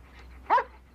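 A dog gives a single short bark midway through an otherwise quiet second, close by but not loud.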